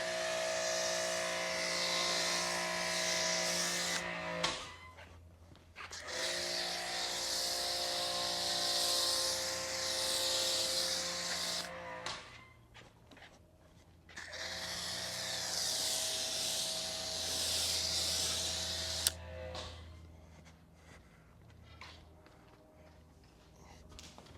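A pressure hose sprays water over a car during a wash, a loud, close hissing blast that runs in long bursts, cutting off briefly twice as the spray pauses and resumes.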